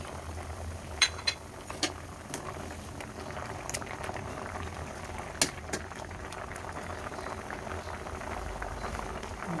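A pot of fresh backyard vegetables with papaya, jute leaves and moringa simmers at a steady boil. Bubbling and hissing run throughout, broken by a few light clinks of a utensil or lid nearby.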